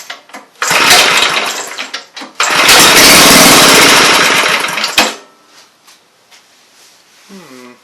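A 5 HP Briggs and Stratton engine with a replacement carburetor roars up at throttle in two loud, close bursts, sputtering between them, then dies away. A voice speaks briefly in the quiet afterward.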